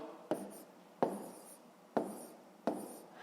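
Numbers are handwritten for long division, four distinct pen or chalk strokes that each start with a sharp tap and fade into a short scratch, close and quiet, evenly spaced.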